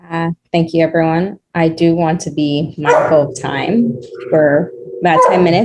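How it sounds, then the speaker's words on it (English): A dog barks in the background of an online talk while someone speaks, with several sharp barks and yips that stand out between and under her words. "I apologize for my dog barking in the background"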